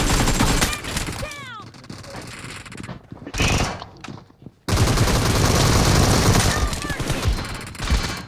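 Dense bursts of P90 submachine gun fire in a team deathmatch video game, loud and nearly continuous with a brief lull, mixed with other game sounds and a voice speaking over it.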